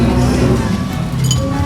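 Glasses clink together in a toast at a Filipino street food stall in Bocaue, Bulacan, one brief bright chime rising over busy market chatter and background noise.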